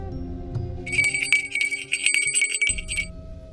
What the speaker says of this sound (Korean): 그때 또다시 종소리가 울려 퍼졌고